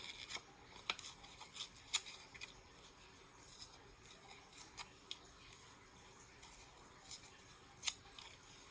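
Paper is torn by hand for a craft project, giving scattered dry rips and crinkly snaps at close range, sporadic and fairly quiet with gaps between them.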